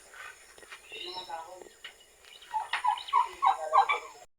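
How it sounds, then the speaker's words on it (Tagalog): Domestic turkeys gobble in a pen, a rapid burst of rattling calls close by toward the end, with a person talking quietly over the start. "ito yung update natin dito sa ating mga pabo"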